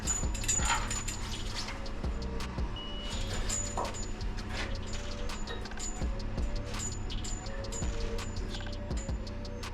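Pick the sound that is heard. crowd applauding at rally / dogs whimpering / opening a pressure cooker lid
dogs whimpering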